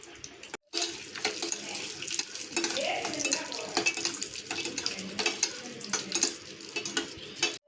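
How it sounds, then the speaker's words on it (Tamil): Cashews are stirred with a spoon in melted ghee for a wheat flour halwa over a low flame, producing a close, continuous wet sizzle with repeated scraping strokes against the pan after a brief silence at the start. "அடுப்பை சிம்மில் வச்சு இதை நல்லா கிளறி கொடுக்கலாம்"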